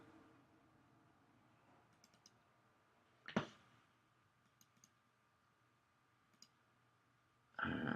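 A computer mouse clicks faintly in a quiet room while SPSS software is in use. One sharper click stands out midway, a few small clicks are scattered around it, and a louder burst of noise comes at the very end.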